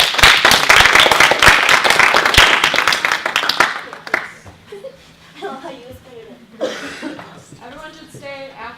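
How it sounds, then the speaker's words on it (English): Student general assembly audience applause, dense loud clapping for about four seconds that fades into quieter room noise with scattered voices and laughter. "can we give him a round of applause?"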